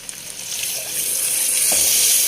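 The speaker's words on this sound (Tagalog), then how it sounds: "Then, lalagyan natin ng chicken stock." Chicken stock poured into a pot of chicken biryani, a soft liquid rush that builds into a steady, close sizzling hiss, heard alone.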